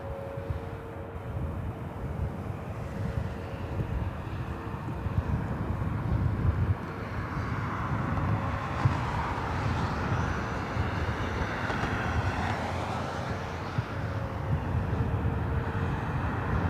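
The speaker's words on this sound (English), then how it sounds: "Air Tahiti Nui Flight 8 heading to Paris, 787-9 Dreamliner taking off on the south side" Boeing 787-9 Dreamliner of Air Tahiti Nui taking off from the south side at LAX, a steady, broad jet engine roar held at a distance for the whole stretch, alone without talk.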